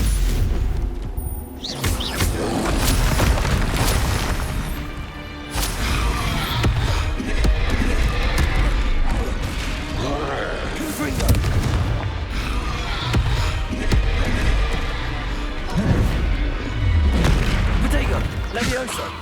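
Stupefy spells strike in the video game Hogwarts Legacy as repeated loud, heavy booms and crashing impacts, layered continuously over dense battle noise for the whole stretch.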